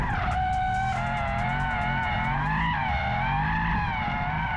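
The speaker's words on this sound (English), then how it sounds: "And you can get some drift in." A Mercedes-AMG E63 S Wagon drifting in circles, with loud sustained tire squeal wavering in pitch over a steady engine roar, close and continuous with no talking.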